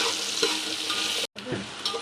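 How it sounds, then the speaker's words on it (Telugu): Onions fry in hot oil for paneer biryani, giving a dense, close sizzle with stirring scrapes. A brief gap cuts the short stretch, then the sizzle resumes. "దీన్ని ఇప్పుడు ఫ్రై చేసుకుందామండి."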